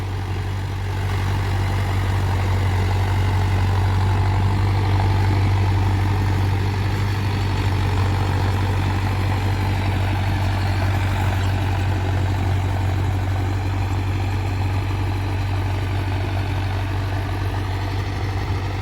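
A Mahindra Arjun Novo 605 DI tractor's large four-cylinder diesel engine idles steadily and loudly throughout, a deep continuous rumble with no noticeable change in speed.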